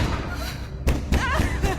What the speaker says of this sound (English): the secret doorway is slammed in her face